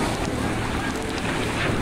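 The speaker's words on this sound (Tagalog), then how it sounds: "Lakas ng hangin." Strong wind blows across the sea by a boat landing near Cebu, a loud, continuous gusty roar buffeting the microphone with surf-like wash beneath.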